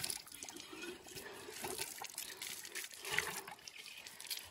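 Clean village water in rural Nepal flows in a steady, soft trickling wash, fairly faint and continuous with no voices.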